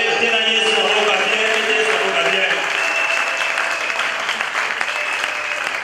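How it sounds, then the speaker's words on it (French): An audience at a church closing ceremony claps and cheers, a loud, sustained wash of applause mixed with shouting voices and what sounds like tonal music underneath, gradually easing toward the end. "Donnez une acclamation pour le roi"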